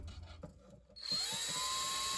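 A power drill with a wire hook in its chuck twisting a length of wire clamped in vice grips, starting up after a few handling knocks and then holding a steady high whine, close and loud.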